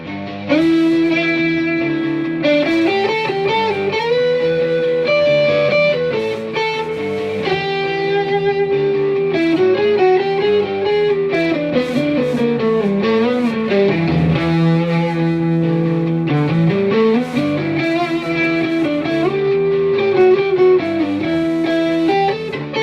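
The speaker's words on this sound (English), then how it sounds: "So very usable rock single coil tones." An electric guitar, a 1985 Peavey Patriot, with a bright single-coil rock tone plays a continuous looped riff, loud and steady with a light crunch of distortion.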